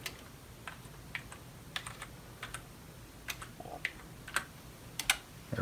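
A password being typed on a computer keyboard, soft irregular key clicks close by, quiet and without talk.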